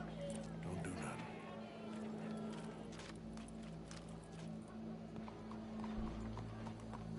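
Horse hooves clip-clop in a steady series of sharp knocks at a Hawaiian cowboy show, moderately quiet, with voices talking in the background.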